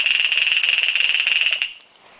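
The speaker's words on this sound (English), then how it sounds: "this buzzer is going off, letting this party know that they have an incoming call" A TA-312/PT field telephone buzzer rings in a steady rapid pulsing burst for about a second and a half, loud and close, then cuts off.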